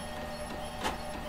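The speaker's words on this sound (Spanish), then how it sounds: "Oh, suena a impresora moderna." A modern printer printing in the horror game The Mortuary Assistant, a short steady mechanical whir with a brief louder burst near the end, heard alone at close range.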